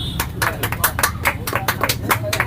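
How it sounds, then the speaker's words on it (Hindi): A crowd claps, with sharp hand claps in a quick, uneven rhythm that stays steady from start to finish. "बहन के लिए ताली बार जोरदार बजा दीजिए।"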